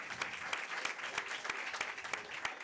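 Sparse clapping from a small group greeting an eight-year-old fan of the week on a college football show, individual claps distinct and uneven, moderately faint.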